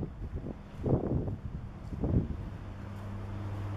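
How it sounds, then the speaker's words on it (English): Wind buffets a handheld microphone outdoors in Minsk, Belarus, with low rumbling gusts that swell twice over a constant windy background; no speech is heard. "It's a little windy right here, and it's a little, yeah, it's really windy"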